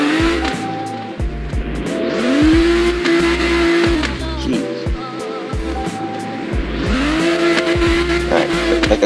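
A car drives and drifts in the Roblox game Redline Drifting, its engine droning and revving while tires squeal in long sustained slides that come and go, loud and close throughout.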